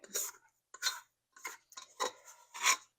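Sticky, high-hydration sourdough broa de milho (cornbread) dough is scraped out of a mixing bowl in five or six close, rasping strokes separated by short pauses.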